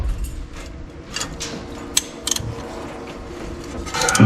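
A rusty Ford 302 engine in a 1968 Chevy C10 is turned over by hand, giving a dry, gritty scrape with scattered clicks and ratchet-like ticks. It grows rougher and louder toward the end, with no talking.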